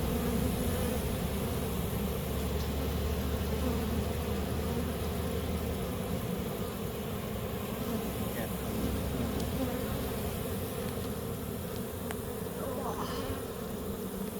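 Honey bees buzz steadily at an open hive during an inspection, a dense, continuous drone close by throughout.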